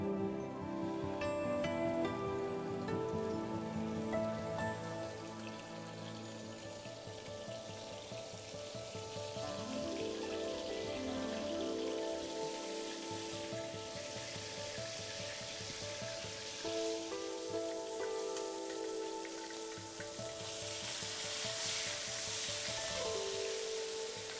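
Food frying in very hot vegetable oil in a pan, a steady crackling sizzle that runs throughout at moderate loudness, with faint background music and no talking.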